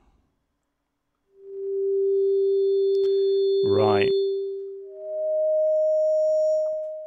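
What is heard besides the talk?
FM synthesizer sine wave tone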